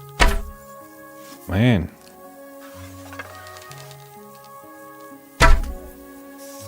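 Bow shots from Kingdom Come Deliverance 2 land as sharp, loud thunks, one at the start and another near the end, with someone talking quietly in between and a musical drone underneath.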